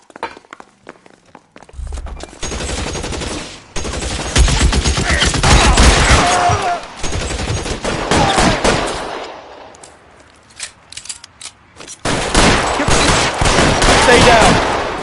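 Video-game gunfire in L.A. Noire: loud volleys of rapid shots in several bursts, with brief lulls and scuffling footsteps between them.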